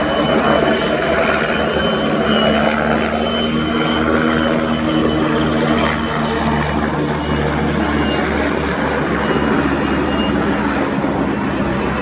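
Two Czech Air Force PZL-Swidnik W-3A Sokol helicopters fly a synchronised pair display at an air show, a loud, sustained roar of turbine and rotor noise with steady tonal whine that never lets up.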